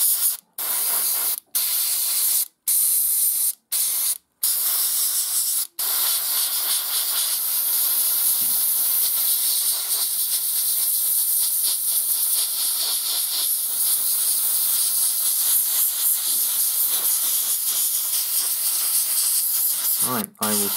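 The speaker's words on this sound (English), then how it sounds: "I will spray up this whole thing." Continuous aerosol spray hiss as a model crane is coated brown, broken by several short gaps early on where the can stops and restarts, then a long unbroken close-up spray, with a brief clatter at the end.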